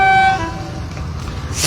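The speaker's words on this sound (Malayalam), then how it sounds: "ഇതാ ഒരു ട്രെയിൻ കടന്നു വരുന്നുണ്ട്" A train sounds a loud horn blast and then rumbles past near Trivandrum at night, the steady rolling of the wagons continuing after the horn fades.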